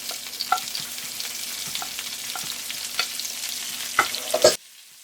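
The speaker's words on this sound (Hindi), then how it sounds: "1 मिनट से सौटे करेंगे, उसके बाद इसे भी हम निकाल देंगे।" Shredded cabbage and capsicum sautéing in a pan for chow mein, a close steady sizzle punctuated by repeated spatula taps and scrapes, ending abruptly in near silence.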